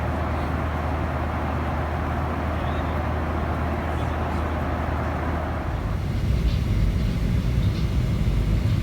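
Steady airplane cabin roar during a flight over the Himalayas, a constant low drone that shifts in tone and grows slightly rougher near the end.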